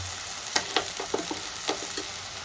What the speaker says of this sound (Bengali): এই এই আলু ভাজার মধ্যে আমি সব মশলাগুলো দিতে থাকবো